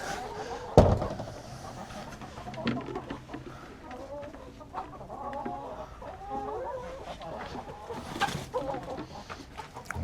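Chickens cluck and murmur inside a hen house, a close, busy run of short calls throughout, with a sharp knock near the start and scattered rustling.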